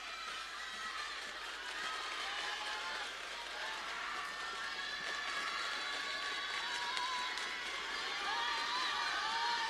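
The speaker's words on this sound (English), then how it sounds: "Listen to the noise from the Frankston crowd." A packed Frankston crowd roars steadily through a junior basketball game at Dandenong Stadium, a dense wash of cheering and shouting that swells slightly over the stretch, with faint voices mixed in.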